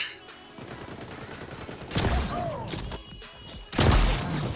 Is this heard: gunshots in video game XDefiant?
yes